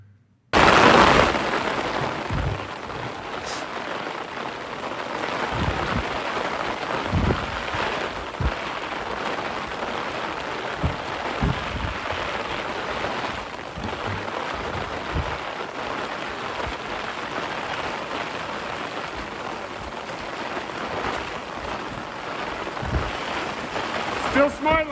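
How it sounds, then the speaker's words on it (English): Heavy, relentless rain pours down in a multi-day mountain rainstorm, a dense continuous hiss that stays steady and loud after a brief thump at the start. "This image was taken in the middle of a 3-day relentless rainstorm."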